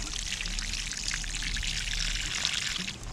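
Water poured onto moist garden soil around a newly planted tomato pools in a shallow well and soaks in, giving a steady, close trickling and splashing hiss throughout.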